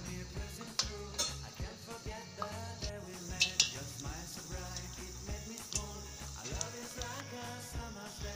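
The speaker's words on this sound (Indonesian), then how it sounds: "Kita masukkan ke dalam penggorengan." Pempek dough scooped with a spoon and dropped into a frying pan, giving repeated light metallic clinks and scrapes of spoon against pan over a steady, busy background with no speech.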